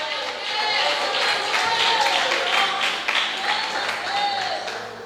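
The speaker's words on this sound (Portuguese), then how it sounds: "dê uma salva de palmas misturada com glória a Deus" Church congregation giving a round of applause, dense steady clapping from many hands with voices mixed in, filling the hall for several seconds.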